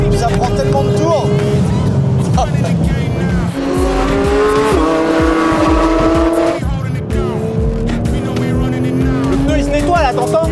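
Race-car tires squeal loudly while cornering on a track, with long shrieking tones held over a hard-revving engine for several seconds, then the engine roar carries on close by.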